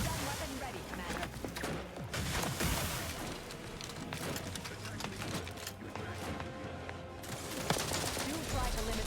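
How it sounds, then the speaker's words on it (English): Gunfire in the video game The Outer Worlds, dense rapid bursts and crackling shots running through a busy battle mix, with voices speaking over the fighting. "Lay down fire."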